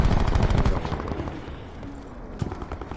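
Dense bursts of rapid automatic gunfire from an online shooter game on an Alcatraz map, loud and continuous at first, then thinning into scattered shots in the background.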